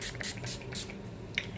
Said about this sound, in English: I'm just going to quickly spritz my face